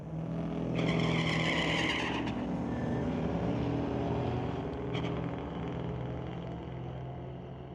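A 2006 Corvette and a 1986 Monte Carlo launch side by side in a street-legal drag race at Mission Raceway Park, a loud, sustained engine roar that swells early and holds steady throughout.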